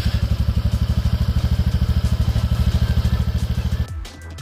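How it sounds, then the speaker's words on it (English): A TVS NTorq 125 scooter with a stubby muffler idles with a deep, bass-heavy exhaust beat, fast even pulses up close and loud, cutting off abruptly near the end. "the stubby muffler, which with its unique bass enhanced beat also makes the scooter sound great"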